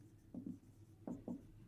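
Pen scratching out a maths solution on paper, two pairs of short close strokes separated by a pause, quiet and alone.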